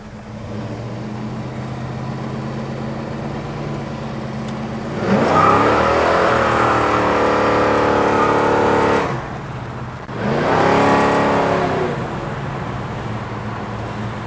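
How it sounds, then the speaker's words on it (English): Engine of a 1970 Chevrolet Chevelle SS muscle car idling with a low burble, then revved hard twice in two sustained bursts before settling back to idle, loud and close. "Car has a nice sound to it, nice idle to it."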